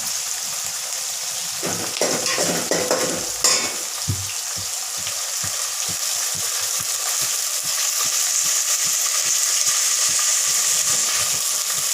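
Tomatoes and coriander fry in oil with a constant close sizzle. Stirring clatters in soft bursts, and one louder scrape cuts in near the start.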